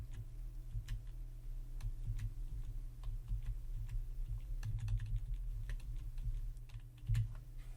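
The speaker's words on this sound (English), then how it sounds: "so we'll type that in with our FMS knob" Clicks of the FMS knob on a Garmin G1000 avionics panel as a waypoint is entered, a steady run of light ticks over a low cockpit hum, with one louder click near the end.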